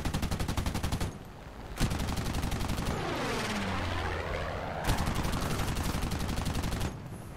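Rapid machine gun fire rattles from an Re.2001 CN fighter plane in the War Thunder air battle game, with long sustained bursts over a droning aircraft engine and a brief pause in the middle.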